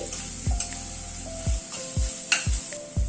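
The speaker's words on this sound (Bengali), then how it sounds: "মশলাটা পেঁয়াজের সাথে একটু নাড়াচাড়া করে নিচ্ছি" Crushed spices frying with onions in a pan, stirred in a few short scraping strokes over a soft continuous sizzle, close by, with a faint melody in the background and no speech.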